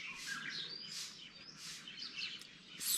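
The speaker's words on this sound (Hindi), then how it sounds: "सिर्फ चिड़ियों की आवाज़ आ रही है, अलग अलग पक्षियों की आवाज़ आ रही है।" Various birds chirp and tweet at a mountain campsite in India in the early morning, faint and distant, with overlapping high calls over quiet ambience.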